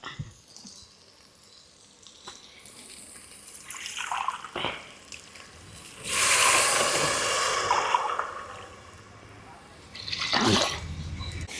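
Water is poured into a pan of basmati rice for vegetable biryani, giving two bursts of splashing and gushing between quieter clatter and faint sizzling.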